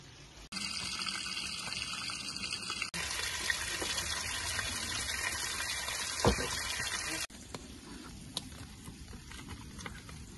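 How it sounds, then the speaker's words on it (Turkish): Water pours and splashes steadily outdoors for face washing, with a louder gushing stretch in the middle and a few brief knocks. "Bayağı da bir terledik, yüzümüzü yıkayacağız."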